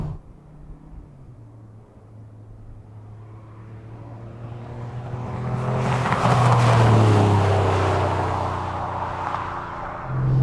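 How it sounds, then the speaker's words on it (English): A TVR sports car fitted with an ACT Sports exhaust revs up from a low idle rumble, swelling to a loud, gruff peak and then easing slightly, heard alone and close. "You rev the car out and she sounds sweet."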